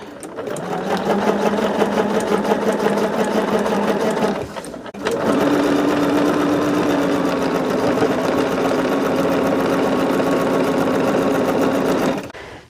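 A sewing machine stitches pieces for a Flowering quilt-along, running steadily and close up for about four seconds, pausing briefly, then whirring on continuously until the end with no talk.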